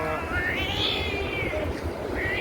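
A cat near the X-cite Alghanim store in Murgab meows in a couple of drawn-out, rising cries, close and clear over low background noise.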